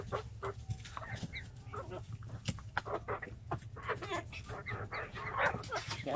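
Backyard chickens clucking steadily while pecking at banana snacks, close by, with scattered soft calls and rustling over a low background hum.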